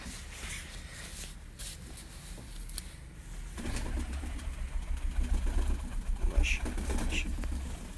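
Pure breeder pigeons coo in a repeated rhythmic burble that grows stronger in the second half, close by, mixed with a low engine idle and people talking.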